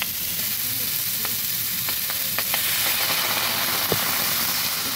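Pumpkin pieces cook in a pan with oil, giving a steady dense hiss of frying with a few faint taps and scrapes scattered through.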